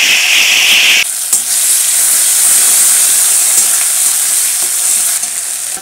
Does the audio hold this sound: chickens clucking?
no